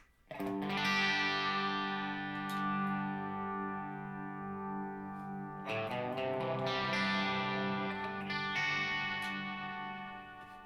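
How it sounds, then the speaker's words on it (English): Electric guitar chords through a NUX Mod Verb pedal ring out with a thick, swirling chorus effect, decaying slowly before a second chord is strummed and left to sustain. "press and hold to bring in even more of that chorus effect"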